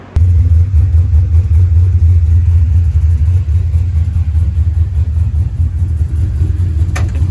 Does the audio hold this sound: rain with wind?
no